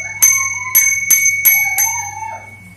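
A newly fitted bicycle bell on a Genio M541 bicycle rings five times in quick succession, loud and close, each strike a bright metallic ding that trails off into a short ringing decay, with no voices.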